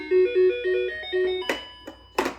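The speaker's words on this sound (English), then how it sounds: "This is the bell." Toddler 6-in-1 toy piano sounding a bright electronic bell-like melody of short stepped tones, followed by a few sharp clattering knocks, close and fairly loud.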